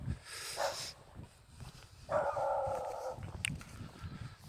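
A dog barking at a distance outdoors on a cold day, a few faint yips and barks mixed with wind noise and a brief whine-like tone.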